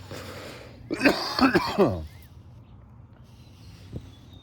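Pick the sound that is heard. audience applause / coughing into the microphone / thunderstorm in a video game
coughing into the microphone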